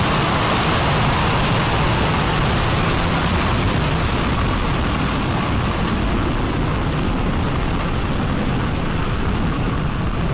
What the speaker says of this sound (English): And we have liftoff of Spectrum.